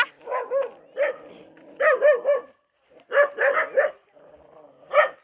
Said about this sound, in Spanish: ¡Oye, perro! ¿Me vas a morder?